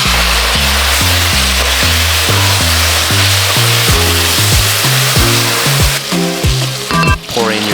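Tomato sauce hitting frying rice in a pan for Mexican rice, a loud, steady sizzle throughout, with background music playing beneath it.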